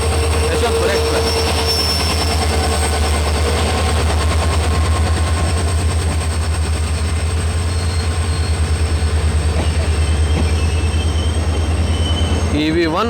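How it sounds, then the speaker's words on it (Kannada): Karwar–Yesvantpur Express running on the rails with a steady low rumble and wheel noise throughout, a brief squeal near the end, and a voice speaking over it. "ಕಾರವಾರ ಯಶವಂತಪುರ ಎಕ್ಸ್ಪ್ರೆಸ್."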